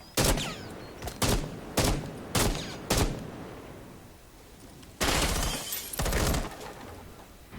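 Gunfire in the video game Rainbow Six Siege: a series of loud, close single shots spaced about half a second apart, a pause, then a denser sustained burst of firing.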